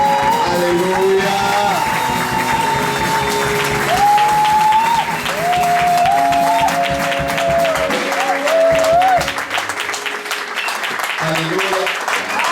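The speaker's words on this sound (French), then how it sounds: "Est-ce qu'on peut acclamer?" A church congregation applauds and cheers at an apostle's exhortation service, with loud sustained clapping and whoops while raised voices and sung or shouted calls carry over the crowd.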